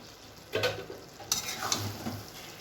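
A Bhetki fish-bone dish with a little sugar and garam masala is stirred in a pan, a few scraping strokes over a soft sizzle, close and brief, without talk.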